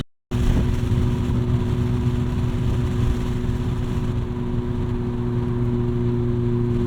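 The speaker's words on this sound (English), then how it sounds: "There's a lot of wind noise" A $500 beater car drives along with its windows cracked open. Steady, loud rushing wind roars over a low droning engine hum, unbroken for the whole stretch, with nobody talking.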